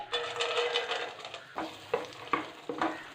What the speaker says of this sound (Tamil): எல்லா நட்ஸையும் நல்லா ரோஸ்ட் பண்ணிக்கலாம்.